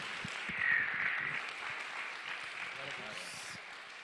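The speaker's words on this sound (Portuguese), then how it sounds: "Dê um forte aplauso ao Senhor Jesus." A church congregation at a Sunday worship service applauds together, producing a steady wash of clapping that rises briefly near the start and then holds moderately loud with a faint murmur of voices underneath.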